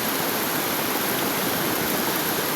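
Floodwater after heavy pouring rain rushes over a slope and footpath, a steady, loud broadband roar of water that continues without a break and has no voices over it.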